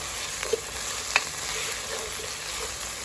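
Fresh tomatoes sizzle in hot oil in a pan, a steady frying hiss running throughout with a couple of brief clicks of a utensil near the start.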